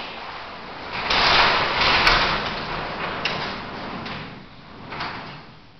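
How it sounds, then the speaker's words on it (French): A garage door is opened, giving a broad rumbling, rolling slide that swells and fades over several seconds, fairly close and with no talk over it. "Je vais t'ouvrir la porte pour que tu vois la lumière."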